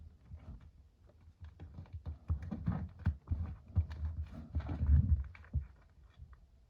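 Paper being folded by hand into an origami F-16 jet: soft close crinkling, creasing and rustling in irregular bursts, quiet at first and growing busier, with no talking.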